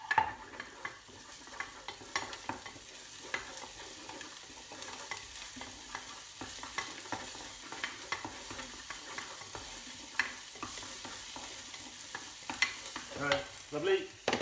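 Onions and tomato paste fry in a pan, with a soft continuous sizzle broken by frequent scraping and clicking stirring strokes, close and fairly quiet.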